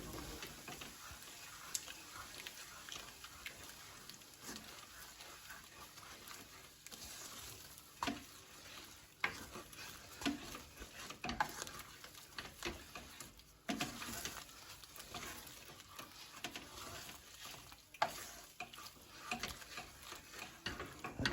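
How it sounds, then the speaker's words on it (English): Eggs stirred slowly in a pan for Spanish eggs, giving soft, irregular scraping ticks and light pattering over a faint, steady sizzle, quiet and close with no talking. "So you're going to mix the eggs in now. Make sure you do this really slowly"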